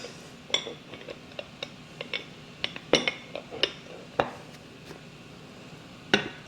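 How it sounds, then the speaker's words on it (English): A plate set on top of a hot chocolate lava cake dish in a kitchen: a scattered series of close, sharp ceramic clinks and knocks, some louder than others, over a quiet background. "you want to take a plate and you're going to put it on top"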